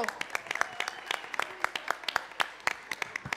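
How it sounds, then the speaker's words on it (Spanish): Audience applause at a national urban music contest, a loose crowd of separate claps ringing out unevenly and fairly close, with a voice faintly mixed in. "Fuerte aplauso"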